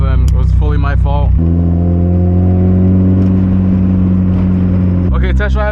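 A Mazda Miata pulls off on a test drive after a wheel hub change, its engine droning steadily with a low humming tone between short bursts of someone talking at the start and end.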